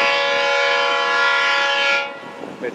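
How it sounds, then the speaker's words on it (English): An All Aboard Florida AFW1 work train with two engines sounds its horn in one long, loud, sustained blast that cuts off near the end, followed by faint background noise. "This is an AFW1. All aboard Florida work train. Two engines up here."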